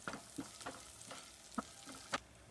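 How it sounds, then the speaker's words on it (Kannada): Curry leaves with garlic fry in oil in a pan for paneer pepper dry. They sizzle softly and constantly while a spoon scrapes and stirs in several distinct, evenly spaced strokes, with no talking. "ಅದರೊಟ್ಟಿಗೆ ಕರಿಬೇವು ಸಹ ಹಾಕಿ ಇದನ್ನು ಸ್ವಲ್ಪ ಮಿಕ್ಸ್ ಮಾಡಿ"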